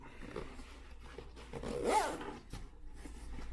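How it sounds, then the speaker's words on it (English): A zipper is pulled closed along one side of a small Hazard 4 Bandoleer Mini Optics sling bag, giving one soft rasping zip that peaks in the middle. It is close and quiet against low background noise. "Let's zip that side up."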